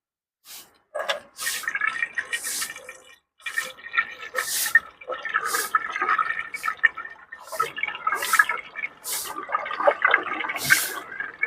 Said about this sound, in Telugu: నేనైతే ఇప్పుడు ఒక 1 లీటర్ వాటర్ అయితే ఇందులో యాడ్ చేస్తున్నాను.